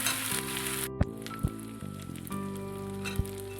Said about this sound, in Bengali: আর একটু ভালো করে নেড়ে নিতে হবে সর্ষের বাটাটা দিয়ে